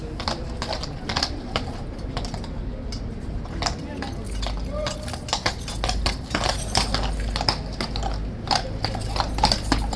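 A guard horse's hooves clip-clop on hard pavement in quick, uneven clusters of sharp close knocks, with a crowd murmuring and voices talking underneath.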